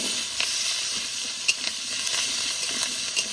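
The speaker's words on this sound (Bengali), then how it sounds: "মাছ ভাজা তেলে আলু ভেজে নেবো" Potatoes fry in oil left over from frying fish, giving a close, continuous sizzle with a few soft clinks of stirring throughout.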